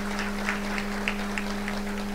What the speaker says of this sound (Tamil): அவருக்கு மிகப்பெரிய கைத்தட்டலை நீங்கள் கொடுக்க வேண்டும்